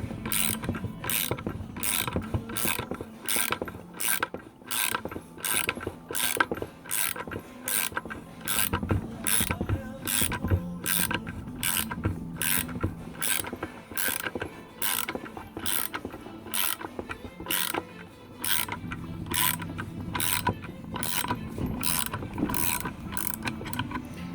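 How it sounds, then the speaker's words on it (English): A Harbor Freight pulley puller is screwed down with a ratchet, giving a steady run of evenly spaced metallic clicks, close and crisp, repeating throughout without pause. "And you just start screwing it down in the opposite way."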